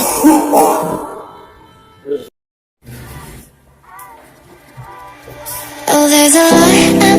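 A person coughs and clears their throat in an Indonesian health-education skit on cough etiquette, a few short close bursts separated by silent gaps, with speech and music around them.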